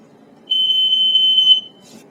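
A single long, steady high-pitched electronic beep from a SmokeGard 907A2 smoke alarm's temporal pattern, lasting about a second, clear and fairly close over faint background hum.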